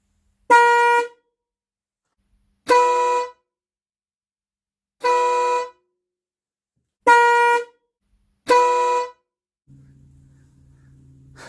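An air horn fitted to a classic Rover Mini Cooper gives five loud, brassy blasts, each about half a second long with silence between them, and a low steady hum follows.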